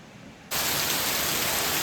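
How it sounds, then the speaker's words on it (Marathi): Heavy first monsoon rain starts abruptly and keeps falling as a dense, steady roar. It holds at a constant loudness, close by, with no voices. "मी तुम्हाला दाखवतो किती जोरदार पाऊस चालू आहे ते बघा तुम्ही."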